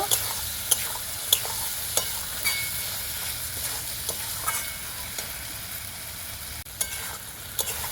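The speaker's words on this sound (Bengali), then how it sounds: "আলুগুলো একইভাবে খুব ভালো করে কষিয়ে নেব।" Fried potatoes are stirred and sautéed in a pan for rohu fish curry, with a steady close sizzle punctuated by regular sharp scrapes and taps of the spatula.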